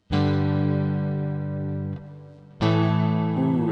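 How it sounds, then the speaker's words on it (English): Electric guitar played through a Fender Mustang Micro Plus headphone amp on its large modulated hall reverb, two sustained chords ringing out with a long, shimmering wash between them, loud and close, with no talking. "And large mod hall reverb."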